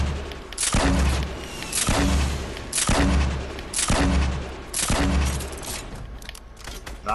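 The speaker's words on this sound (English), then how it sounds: "I'm gonna throw my grenades in it." Grenades going off in a shooter video game, five heavy booming blasts in a steady rhythm about a second apart, each leaving a rumbling tail.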